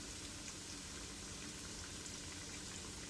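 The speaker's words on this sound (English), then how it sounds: "I'm very gentle with the transferring of the cake mixture, the fish cake mixture into the oil" Fish cake mixture frying in hot oil, a steady, dense sizzle and bubbling that holds at an even level throughout, close and continuous with no talking.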